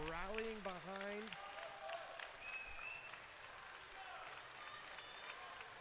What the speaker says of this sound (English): And the German crowd rallying behind